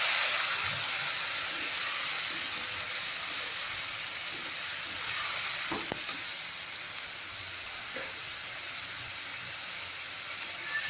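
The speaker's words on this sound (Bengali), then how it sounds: "আগে থেকে তৈরি করে রাখা পেঁয়াজ রসুন আদা লঙ্কা পেস্ট করা আমি এবার এই কড়াইয়ের মধ্যে দিয়ে দেবো" Onion, garlic, ginger and chili paste fries in hot oil in a wok for mustard hilsa, making a steady, even hiss with one or two brief clicks partway through.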